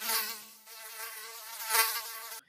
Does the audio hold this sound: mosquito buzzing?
yes